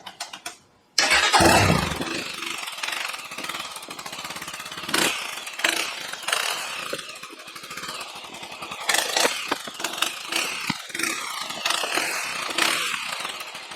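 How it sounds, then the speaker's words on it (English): A motorcycle with its original stock exhaust starts up and settles into a steady idle, a rough, close, continuous mechanical rumble with small throttle blips and no talk. "let's get a listen to what the original exhaust system sounds like"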